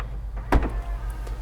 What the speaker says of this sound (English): the door automatically opens